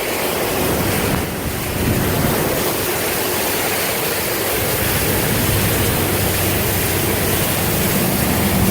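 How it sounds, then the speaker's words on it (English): A vehicle pushes through three to four feet of floodwater during a Texas flood, a continuous loud rushing wash of churning water and wind-like roar with no pauses. "we just drove through like 3 or 4 feet of water"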